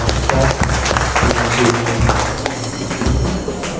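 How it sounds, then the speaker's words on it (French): A church congregation claps through Sunday worship, a dense, steady wash of hands with voices and music running underneath throughout. "Applaudissez bien pour le"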